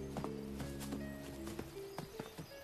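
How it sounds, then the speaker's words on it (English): A saddled horse's hooves clip-clopping in the countryside, a run of sharp, fairly close hoof strikes in loose rhythm over a steady droning background. "Saddled horse. Where's the rider?"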